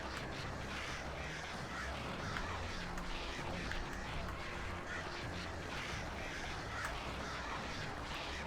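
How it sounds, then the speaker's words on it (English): Birds cawing indoors in a video game: harsh crow-like calls scattered over a dense, constant background of noise throughout. "These birds are weird."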